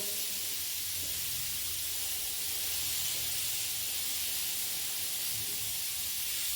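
A filling sizzling in a hot pan in a culinary school kitchen, a steady bright hiss of frying and steam that stays even throughout, with no talking.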